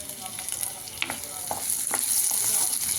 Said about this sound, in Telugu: ఇది ఇలా బాగా వేయించుకోవాలి